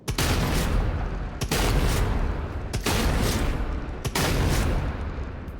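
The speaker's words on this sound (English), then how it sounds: "things like the combat shotgun are just mwah, chef's kiss. Listen to it." A combat shotgun fires in DOOM: The Dark Ages, five heavy booming blasts at a steady slow rhythm, each shot followed by a loud sustained roar of impact and echo, close and dominant with no talk.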